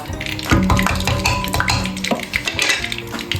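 Meatballs fry in hot oil in a pan for a Paraguayan soup, a steady close sizzle broken by the clink and scrape of a utensil against the pan as they are turned.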